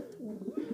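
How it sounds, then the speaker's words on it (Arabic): A pouter pigeon coos softly in a low, throaty, rolling murmur that swells toward the end, close and alone. "بس بتزوم كده زومة يعني"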